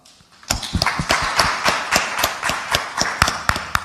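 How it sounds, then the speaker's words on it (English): Audience applause at the sTARTUp 2014 startup event: a burst of crisp, fairly sparse hand claps starts suddenly after a short quiet lead-in and carries on steadily, close and moderately loud. "Give him a big round of applause."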